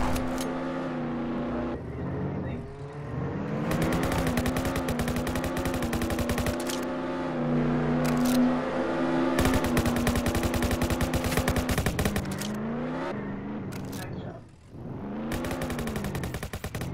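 Rapid, continuous gunfire in the Roblox Jailbreak video game, loud and close over a droning vehicle engine hum, with brief pauses between bursts.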